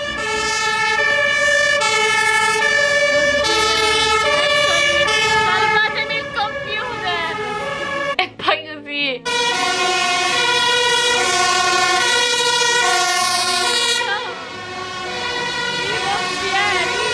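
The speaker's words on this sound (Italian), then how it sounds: "hanno iniziato ad arrivare, tipo, la polizia, tre camion dei pompieri" Several fire engine sirens wail loudly and continuously as the trucks arrive at a burning hotel, their tones overlapping and shifting pitch, with a brief rumbling interruption midway.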